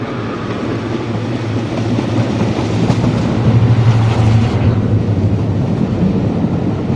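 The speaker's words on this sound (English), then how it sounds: "The train started from Derby and took in all manner of exotic track work" A charter railtour train out of Derby on the track, a steady loud rumble of wheels and engine that holds throughout without pause, no voices.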